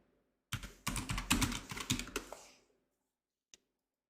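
Rapid clattering keystrokes on a computer keyboard, a dense burst of close taps lasting about two seconds, followed by silence and one final isolated click.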